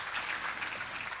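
Soft, steady clapping from an audience at an author interview event, faint and even throughout with no voices.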